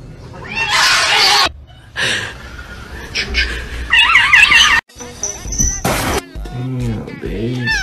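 A cat meows several times in short bursts, interleaved with people talking and laughing nearby, the calls fairly close and clear.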